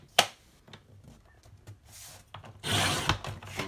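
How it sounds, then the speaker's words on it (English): Paper being trimmed to size for a mini album, with scattered dry rubs and taps followed by a steadier rasping slide near the end, close and fairly quiet with no talking. "let's go ahead and trim that up"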